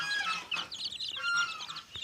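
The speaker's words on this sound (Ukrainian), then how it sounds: "Виходить вісім курочок і півник один." Chickens and a rooster cluck busily at close range, overlapping chatter with a few sharper squawks, no talking.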